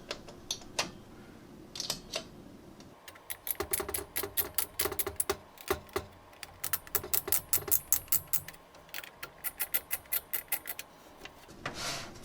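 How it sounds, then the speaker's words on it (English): Screws are being started into a PC case during a Ryzen and Radeon gaming build, heard as rapid bursts of small clicking ratchet-like ticks from a screwdriver, close and fairly quiet, coming in irregular clusters. "Once you have the screws started, you can go around and tighten them up."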